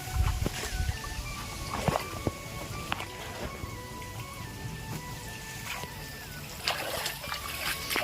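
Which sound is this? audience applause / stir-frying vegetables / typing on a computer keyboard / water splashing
water splashing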